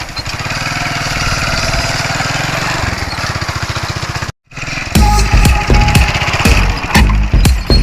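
A motorcycle engine runs with a loud, steady, close-up throbbing idle. After a brief cutout it returns with a harder, choppier pulsing beat.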